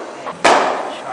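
A single sharp crack of a cricket bat striking a fast-bowled ball, close and loud, with a brief ringing decay over light background noise.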